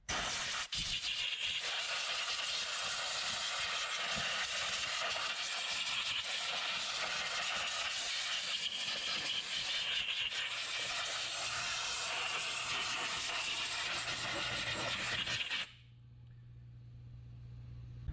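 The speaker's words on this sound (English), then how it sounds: "if you have an air compressor, that's the best thing to do, is to blow it all out" An air compressor blows dirt out of the engine intake area of a 2.5L Mazda CX-5: a loud, constant broadband hiss of compressed air runs steadily for about fifteen seconds, then cuts off abruptly.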